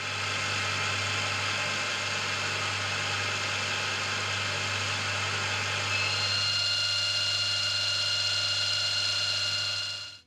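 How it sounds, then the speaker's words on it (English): A milling machine spot drilling through the knurled surface of a steel tailstock die holder, giving a steady mechanical hum with a tonal whine that shifts slightly partway through, continuous and close with no talking. "then we can simply center it in and spot drill through that knurling"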